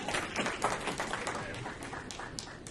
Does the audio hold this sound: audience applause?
yes